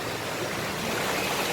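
Water rushing at Parasapas Falls, a steady, dense broadband roar close by that holds even throughout with no voices over it.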